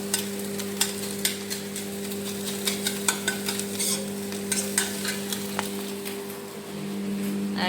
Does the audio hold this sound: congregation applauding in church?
no